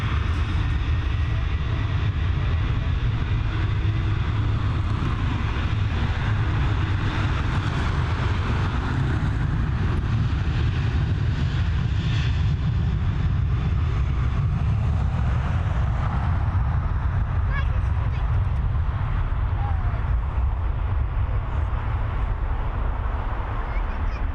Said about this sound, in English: We're heading over to Bordeaux here with FR 6485, this Boeing 737 aircraft.